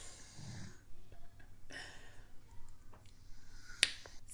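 A man imitates snoring with his voice, a few rough breathy snorts spread across a quiet indoor stretch, with one sharp click near the end.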